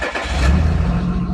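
Diesel engine of an Audi A4 2.0 TDI cranking and catching after a fuel filter replacement, settling into a loud, close, rough idle rumble within a second.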